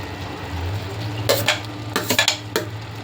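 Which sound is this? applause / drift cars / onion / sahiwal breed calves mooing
onion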